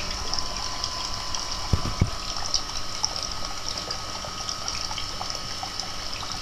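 Water leaking from an outdoor supply pipe and running through a wall, a steady faint trickle and hiss picked up as if through a listening device, with a couple of brief knocks early on and no talking.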